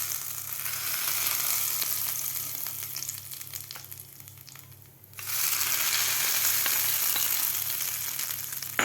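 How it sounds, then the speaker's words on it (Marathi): Hot tadka tempering poured into coconut chutney for medu vada, giving a steady crackling sizzle that briefly fades near the middle and then surges back just as loud; no voices. "हा तडका आपल्याला ह्या चटणीमध्ये घालायचा आहे."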